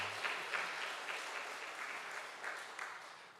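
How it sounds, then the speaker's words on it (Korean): A church congregation applauds at a Sunday service to encourage the children, with steady, even clapping from many hands that fades gradually and has no voices over it. "우리 한번 다시 박수로 한번 격려해 주시죠."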